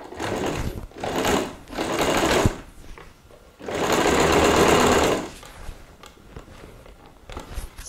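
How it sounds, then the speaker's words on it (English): Close and loud, a sewing machine stitches a jeans bag over an existing seam in several bursts, including one long steady run, with short pauses between them. "we're going to go and sew on top of the same stitch that you have already sewn in"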